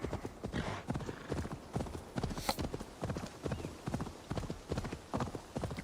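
Horse hooves pound in a steady galloping clip-clop rhythm from a mount ridden in Assassin's Creed Valhalla, loud and close, continuing throughout with a faint snort and no talk over it.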